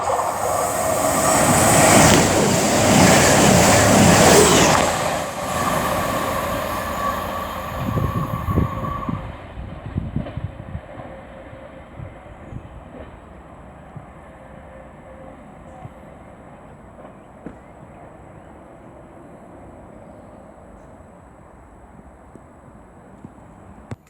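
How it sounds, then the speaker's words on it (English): CrossCountry train 221133, running from Manchester Piccadilly to Paignton, rushes loudly through Ashchurch station with roaring wheels and rail noise. It then fades into distant clicks and light rumble as it moves away. "now approaching will be 221133 for CrossCountry, working 1 Victor 59 from Manchester Piccadilly to Paynton"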